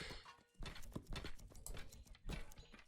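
Horses' hooves clip-clopping in the real-time strategy video game 0 A.D., a quick run of rhythmic hoofbeats at moderate volume in a busy battle mix.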